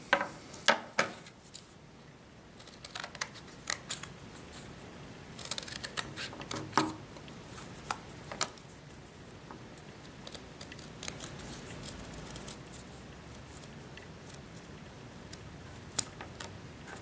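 Scissors cutting a paper base out for a handmade cocoon prop make repeated close snips and paper rustles, busy at first and then sparser, with light handling noises between cuts.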